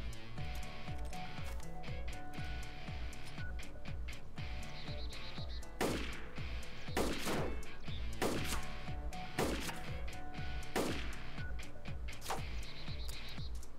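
A pistol fired in DayZ, several sharp cracks spaced irregularly across a steady rhythmic music bed, fairly loud and close, with a quick cluster of shots in the middle.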